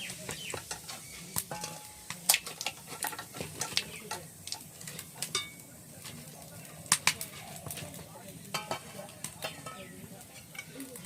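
Cumin seeds tempered in hot oil for a chicken and taro (kachu) curry, a soft continuous sizzle with scattered crackles and stirring clicks, and bird coos in the background.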